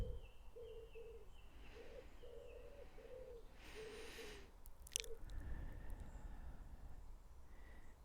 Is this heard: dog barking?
no